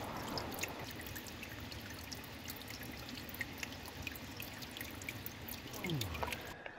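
River rapids in Romania rushing in a steady, broadband wash of water, moderately distant, with brief louder splashes near the end.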